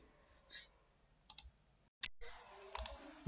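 Computer mouse clicks during a passport renewal form entry online: a few short, sharp clicks spaced apart, close to the microphone with faint background hiss and no talking.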